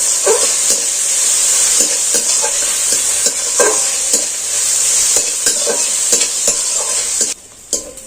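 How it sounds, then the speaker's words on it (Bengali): Steady sizzling of onions frying in a pan for a semolina and potato snack, with repeated scraping strokes of a spoon stirring throughout, close and fairly loud. "দিচ্ছি পেঁয়াজ দিচ্ছি আবার এই পাশে নাড়াচাড়া করে ভেজে নিচ্ছি"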